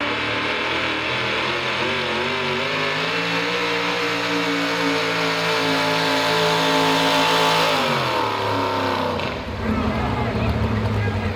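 A pulling truck with a 605 cubic inch engine roars at a truck and tractor pull, revving loudly with a rising, sustained tone before dropping off near the end, as a voice talks over it.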